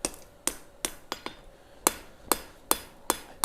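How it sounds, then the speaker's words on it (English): Sharp, ringing back-face hammer blows on hot metal being forged into a sled land one after another at an uneven pace, close and bright, each decaying quickly. "I was doing some back face hammer blows to take that rag off"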